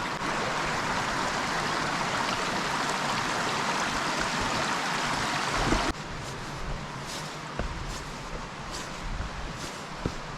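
Creek water flowing beside the Appalachian Trail between Hightower Gap and Woody Gap, a steady broadband rush that stays loud and continuous, dropping slightly in level partway through, with no talk.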